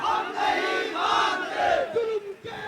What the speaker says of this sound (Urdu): یہ دیکھ سکتے ہیں نعرے لگ رہے ہیں